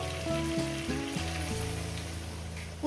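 Poppy seed paste sizzles and fries with potatoes in a hot pan, a steady close crackle with a few stirring scrapes early on.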